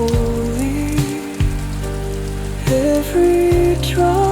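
Rain falls in a dense, continuous patter under a loud, slowly shifting musical backing with held notes that change pitch now and then.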